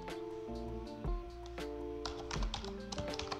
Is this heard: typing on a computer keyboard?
yes